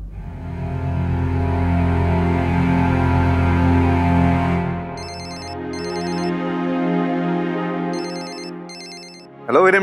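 A sustained low musical drone plays, then an electronic phone ringtone chirps in short repeated bursts, twice and then twice again, before a sudden louder sound at the end.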